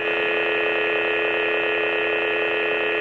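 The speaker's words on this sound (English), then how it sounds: "give a listen to the way that the saber sounds when it's humming" Steady electronic hum from a custom lightsaber held at rest, a dense buzzing drone with a bright tonal band, constant and loud throughout with no talk.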